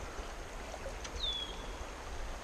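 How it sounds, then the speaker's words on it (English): A broad steady rush of flowing high water on Pine Creek, a wide river-sized stream during spring fly fishing, continuous and even with no talking. "This is a river."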